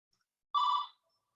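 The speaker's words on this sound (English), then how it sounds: "that phone is just going to ring in the background" Telephone ringing in the background of a home workspace, a single short electronic ring burst, faint and alone in quiet.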